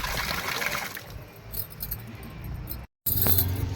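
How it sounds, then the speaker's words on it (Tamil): Water trickles and splashes steadily into a container of raw rice being washed, with a brief dropout before the pouring resumes louder. "இந்த மாதிரியே தண்ணி ஊற்றி ரெண்டு மூணு டைம் வாஷ் பண்ணிக்கலாம்"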